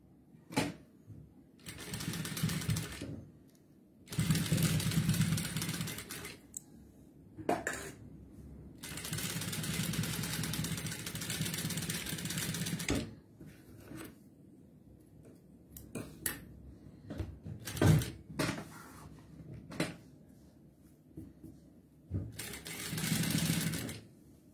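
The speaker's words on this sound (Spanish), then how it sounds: "Y voy a hacer la costura." Sewing machine stitching the seam of a travel jewelry case, with several close, steady runs of rapid rhythmic whirring separated by quiet pauses and small handling clicks.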